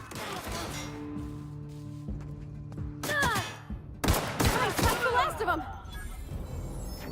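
Sci-fi gunfire in The Outer Worlds, a burst of sharp shots and crashing impacts building in the second half, mixed with tonal game sounds and a talking voice.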